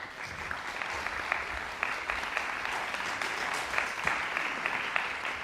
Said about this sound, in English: Clap for him as he comes.